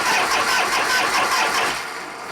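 A 1973 Harley-Davidson FX Super Glide with a 74 ci Shovelhead V-twin catches and fires roughly, misfiring on two cylinders, a loud, uneven chugging run for about two seconds before easing off slightly.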